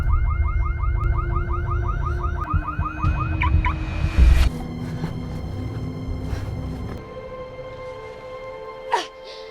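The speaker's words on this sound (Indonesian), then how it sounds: "suara alarm mobil dan suara angin itu berasal dari speaker" A car alarm plays through speakers in a film scene, cycling loudly through warbling whoops and steady tones, then shifting pattern, with rushing noise and a few sharp bursts underneath and some voices in the background.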